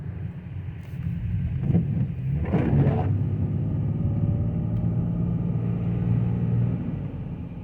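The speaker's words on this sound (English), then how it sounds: "I will accelerate a bit over here." A BMW E38 sedan accelerates, its engine rumble swelling into a deep sustained drone with a brief burst of noise early on, then easing slightly at the end.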